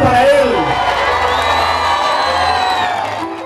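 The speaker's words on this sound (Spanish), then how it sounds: "¡Un aplauso para él!" A crowd at a town festival in Anzoátegui, Tolima, whoops and cheers loudly for a returning guest, shouts and cries rising close together over a bright crowd roar, with a voice calling out in the first moments.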